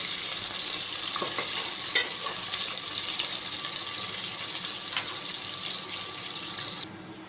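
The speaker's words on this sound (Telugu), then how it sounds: "ఆనియన్ను పచ్చివాసన పోయే వరకు వేయించుకోవాలి" Chopped onion frying in a pan for Nellore fish curry, a steady close hiss of sizzling oil with faint stirring clicks, continuous until it cuts off near the end, no voices.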